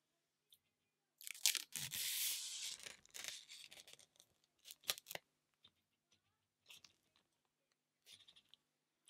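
Plastic film crackles and tears as it is peeled off a Jeffree Star Blood Lust eyeshadow palette, a dense close-up burst of crinkling followed by scattered short rustles and crackles, with no talking.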